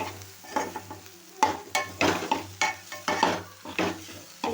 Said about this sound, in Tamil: லோ ஃப்ளேமில் வச்சுக்கிட்டே நல்லா கிண்டி விட்டுக்கணும்